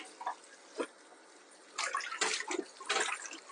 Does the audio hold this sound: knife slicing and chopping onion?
no